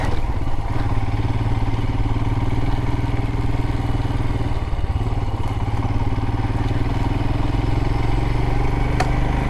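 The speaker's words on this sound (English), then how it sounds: "let's get back at it and see if we get to some clear roads, throttle up, and get some mud off these tires" A motorcycle on a muddy road on a camping ride runs loud and close with a steady engine drone, its throttle held and rising slightly, with faint clatter over the whole stretch.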